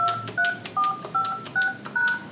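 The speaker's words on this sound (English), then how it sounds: "Please enter your new passcode, then press the pound key." Touch-tone keys are pressed on a Polycom VVX desk phone, six distinct dual-tone beeps in a steady sequence with short gaps, clear and close, and no one speaking.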